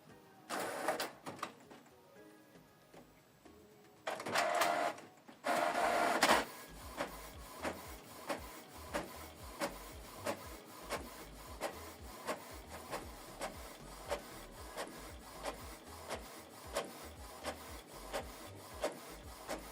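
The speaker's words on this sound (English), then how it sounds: "will show you printing is completed" Canon Pixma TS5350i inkjet printer working through a two-sided monochrome print job, with whirring feed bursts at first, then a steady series of rhythmic mechanical clicks and print-head strokes, close and moderately loud.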